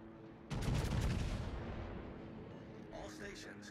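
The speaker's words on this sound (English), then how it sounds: "All stations, concentrate fire on the target." Heavy naval guns boom from a warship in a naval battle video game, a loud broadband salvo erupting then rumbling away over several seconds, with faint game chatter toward the end.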